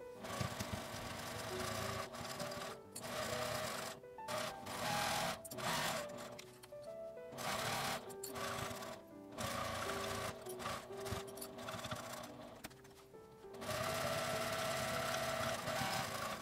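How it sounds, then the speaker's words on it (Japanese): Sewing machine running in bursts while stitching a fabric wallet bag together with a 5 mm seam allowance, the motor whirring steadily with short pauses between runs. "周りを5ミリの縫い代で縫いつなげます。"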